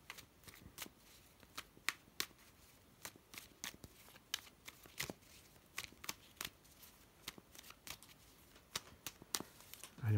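A deck of cards is shuffled and cut by hand at a card reading, giving a steady run of crisp riffling flutters and soft slaps, close and fairly quiet, with no voices.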